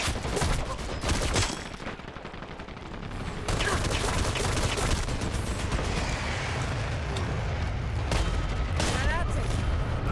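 Rapid automatic gunfire in a tactical shooter game with C4 objectives, dense bursts of shots and booms running almost continuously, loud and close, with voices talking over the action.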